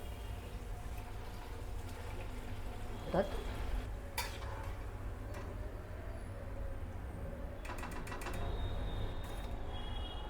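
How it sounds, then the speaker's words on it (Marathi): Kadakani dough fries in hot oil, producing a low, steady bubbling sizzle close by, broken by a few sharp clinks of a utensil against the pan and a brief metallic rattle toward the end. "तेल गरम झालेलं आहे. तर आता पहिली कडकणी आपण तळून घेऊया."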